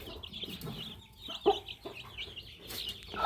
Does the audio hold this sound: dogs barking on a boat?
no